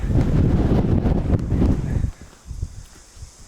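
Strong wind on an exposed hilltop near New Plymouth, New Zealand, buffets the microphone in a loud, deep roar for about two seconds, then eases into lighter gusts with faint rustling.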